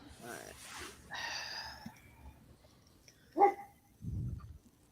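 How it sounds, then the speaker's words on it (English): A household dog sounding off faintly in the background of a tabletop role-playing game session, with a couple of brief, muffled vocal bursts amid people talking nearby. "Sorry, that's the dog."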